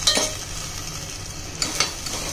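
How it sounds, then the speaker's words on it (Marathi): Rice roasting in a pan as a metal spoon stirs it, a soft sizzle underneath with a few sharp scraping clinks near the start and again toward the end, close and moderately quiet. "आता आपण तांदूळ पण थोडे त्यात चमच्याने थोडंसं भाजून व्यवस्थित हलवून घेऊया"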